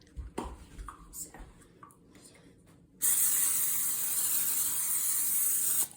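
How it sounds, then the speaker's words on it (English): Pan spray greasing a baking pan for deep dish brownies: a continuous close hiss from the aerosol for about three seconds, starting after quiet handling sounds and cutting off sharply. "I have to grease my pans."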